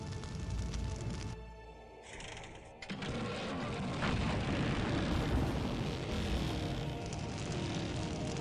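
Propeller plane engine in the video game Full Throttle, a steady droning roar that briefly dips and cuts, then swells back louder and holds, with no one talking over it.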